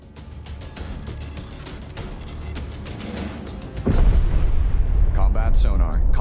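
Depth charges go off in Destroyer: The U-Boat Hunter, a rumbling run of blasts building into a louder, deeper surge of underwater booms, with voiced commands over the action.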